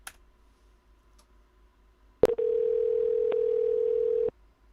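A telephone dial tone sounds after a click as a call is placed, a steady loud single tone holding for about two seconds before cutting off, with no talk over it.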